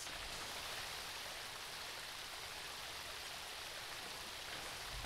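Steady broadband rushing of water, like a waterfall, inside a Minecraft dinosaur-mod world, continuous and even throughout with no breaks or other sounds.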